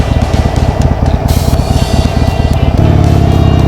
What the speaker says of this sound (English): I like the way this engine sounds